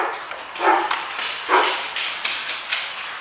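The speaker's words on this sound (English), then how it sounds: "Set the dogs off." Dogs bark in a series of sharp, mid-distance barks at a garage, several bursts spaced irregularly over a few seconds.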